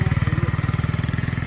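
A motorcycle engine runs close by on a rain-flooded road in Khadimabad, its rapid, regular firing pulses throbbing steadily with no speech.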